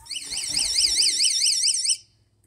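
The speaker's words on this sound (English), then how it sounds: "the alarm is about to go off" An electronic alarm shrieks with a rapidly warbling siren tone for about two seconds, loud and close, then cuts off abruptly.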